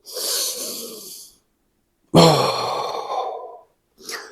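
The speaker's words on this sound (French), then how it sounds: "Exercice du cobra avec la respiration thoracique." Thoracic breathing during a cobra yoga exercise: two long, airy breaths, the second sharper and louder, followed by the start of a third, close and with no talk.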